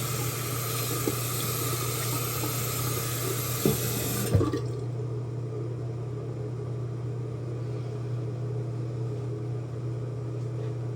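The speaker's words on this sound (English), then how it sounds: "We know we gotta rinse some hands off after using that shit" A tap runs steadily as hands are rinsed underneath it, a close, full rush of water that stops abruptly partway through, leaving only a low background hum.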